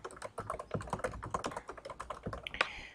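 Close, quick keystrokes on a computer keyboard as a board name is typed, a rapid irregular patter of about two dozen crisp clicks with no voice over them.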